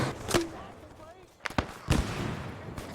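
A frag grenade detonates in a tactical shooter game near a tree line and metal shack, heard as a few sharp mid-distance bangs spaced across a few seconds over a noisy battlefield ambience, with a voice shouting briefly.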